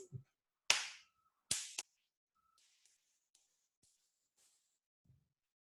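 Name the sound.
hand clap recorded through a webcam microphone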